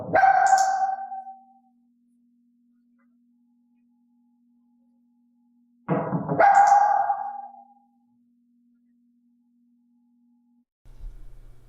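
Dog barking indoors: two loud single barks about six seconds apart, separated by near silence with a faint steady electrical hum, and a dull low thump at the end.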